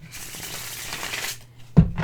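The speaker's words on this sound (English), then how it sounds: "The riffle shuffle is just so easy if you're a riffle shuffler." Tarot cards are riffle shuffled, a soft fluttering rattle of bending card edges, close and fairly quiet, followed by a sharper snap as the deck comes together.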